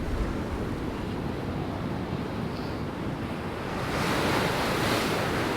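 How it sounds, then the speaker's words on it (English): Rough ocean surf on the east coast of Australia at Bouddi National Park gives a loud continuous wash, swelling into a bigger crashing wave near the end, with wind buffeting the microphone. "How violent and angry the sea is"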